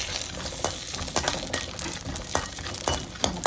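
Vermicelli being stirred and roasted in a pan, a dense dry sizzle broken by regular scraping strokes of a spoon, close and loud with no voices.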